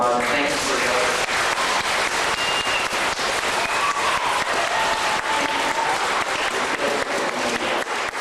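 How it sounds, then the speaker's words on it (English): Dense, sustained applause from a large audience, steady and loud throughout, with a faint voice briefly audible at the start. "I'd like to give Kristopher another big round of applause"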